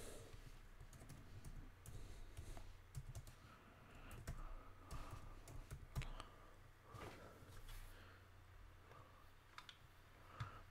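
Steady keyboard typing on a computer while a page is open for writing, with dense irregular clicks running throughout at close range over a low background hum.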